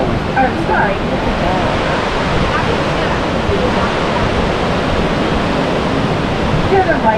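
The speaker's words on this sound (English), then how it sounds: "To the right of the car is the Niagara River, and the water coming towards us is around 35 to 40 kilometers an hour" Broad, steady roar of the fast-flowing Niagara River rushing below the Whirlpool Aero Car, a constant loud wash of whitewater at close range with no break.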